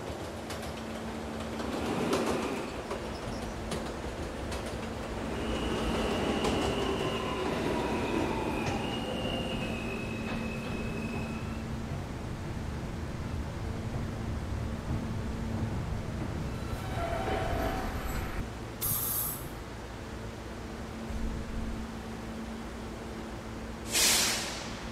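An R160A subway train in a Roblox game rumbles along steadily, with wheel squeals, a rising motor whine and rail clatter, ending with short bright chime-like tones near the close.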